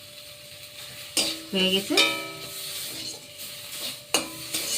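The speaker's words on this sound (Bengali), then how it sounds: "নেড়ে নেড়ে আস্তে আস্তে অল্প জালে এইভাবে নেড়ে নেড়ে একদম শুকনো করে নিতে" Ghatkol leaf paste with nigella seeds, green chillies and garlic being stirred and dry-fried on a low flame, a spatula scraping the pan in a few distinct strokes over a soft sizzle, with a brief spoken phrase.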